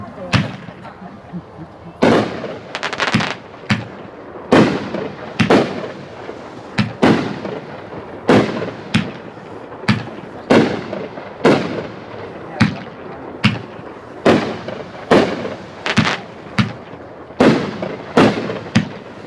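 Fireworks at a 2024 Lew's Fireworks demo go off in a steady series of sharp, loud bangs and crackling bursts about once a second, with faint voices between shots.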